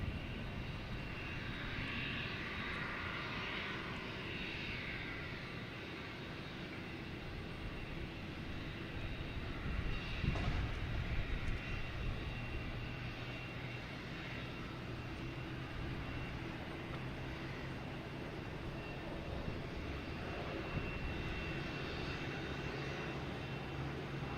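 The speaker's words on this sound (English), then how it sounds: "So next to arrive is a JetBlue coming in from Nashville, an A320." A JetBlue Airbus A320 arriving from Nashville at Boston Logan Airport gives a steady, broad engine roar throughout, heard from a distance with a slight swell partway through, and no voices.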